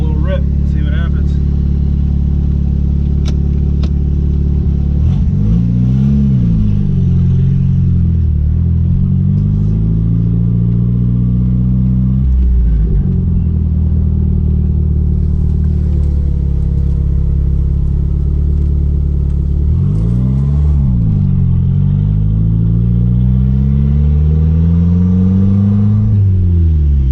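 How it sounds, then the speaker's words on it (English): A warmed-up, boosted car engine revs repeatedly, each rip climbing and falling in pitch over a steady deep idle rumble, loud and close, with a few rises spaced across the stretch. "now that the car's warmed up and everything, taking on a little rip, see what happens"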